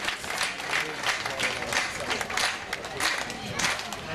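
An award ceremony audience breaks into lively applause, a dense wash of claps from a crowd that swells and ebbs in waves, with voices mixed into the clapping.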